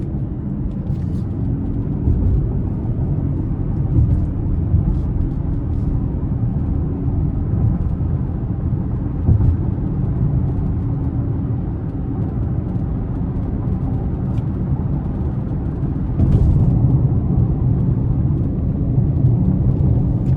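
Steady, loud low engine rumble and road drone inside a 2026 Lincoln Corsair Grand Touring AWD under hard acceleration. The sound holds constant throughout, swells slightly near the end and has no talk over it.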